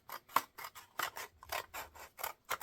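Wire cutters snip through the end of a metal paper clip for a paper-craft bookmark, giving a run of about a dozen sharp, close, evenly spaced cutting and rasping clicks with no talking.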